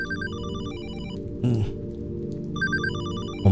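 A telephone rings in the survival horror game Hollowbody with an electronic ring tone. It sounds in two bursts separated by a short pause, over a low ambient drone, and a brief knock comes in between.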